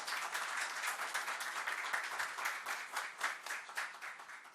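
An audience applauds at a formal public plenary session in Osasco, sustained dense clapping from a crowd filling the room at an even level throughout, with no speech over it.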